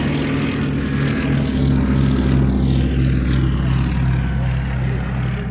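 A 1930 Comper Swift propeller aeroplane flies past at an air race day, its engine drone steady and loud for the whole stretch, with the pitch shifting gradually as it passes.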